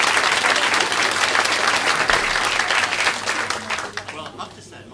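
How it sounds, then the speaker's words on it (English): Loud, sustained applause from a live audience at an evening show, dense clapping filling the whole stretch and tapering slightly toward the end. "please have a round of applause for Roger."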